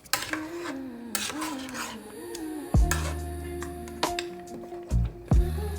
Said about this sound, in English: I stir it all together, just to incorporate very well.